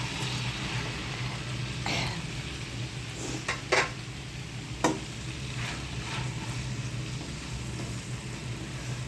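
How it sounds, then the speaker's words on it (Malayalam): Capsicum sautés in oil in a pan for chicken curry, a moderate continuous sizzle with a few sharp clinks of a utensil against the pan, no talk. "നമുക്ക് ഈ ക്യാപ്സിക്ക് ഒന്ന് ഈ എണ്ണയിൽ തന്നെ ഒന്ന് വാട്ടിയെടുക്കാം"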